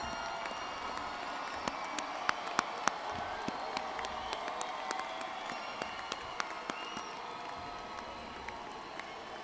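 Sustained applause from a large audience at a college commencement ceremony for the Colleges of Arts & Sciences and Fine Arts & Communication, steady dense clapping throughout, moderately distant with a few sharper individual claps standing out.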